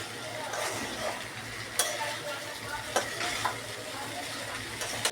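Boiled pasta is stirred into a frying pan with tomato and fried egg over a continuous sizzle. Sharp spatula knocks against the pan land every second or so.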